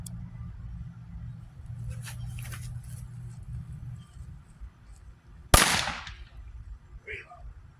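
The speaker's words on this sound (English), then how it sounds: "That's the firecracker by itself." A Phantom silver salute firecracker goes off alone in one sharp, loud bang that quickly fades, following a few seconds of quiet background hum and small noises.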